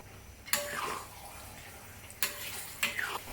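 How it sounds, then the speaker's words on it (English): Water poured into a wok holding chicken and spices for a Eurasian Kristang devil's curry, heard as a few splashing, sizzling bursts with short pauses between, close and moderately loud. "add roughly about a cup of water"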